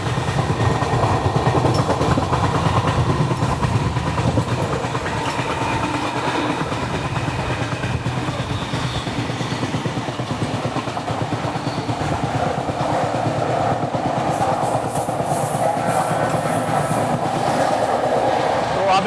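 The Sachkhand SF Express rushes past Datia without stopping, heard from inside the coach as a loud, continuous rumble with rhythmic clickety-clack from the wheels and a brief metallic squeal near the end.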